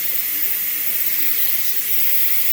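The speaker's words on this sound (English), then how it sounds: "And then we are going to hit the steam release button." Steam blasts out of the release valve of a Pampered Chef Quick Cooker pressure cooker during cooking, making a loud, steady, continuous hiss that holds at the same level throughout.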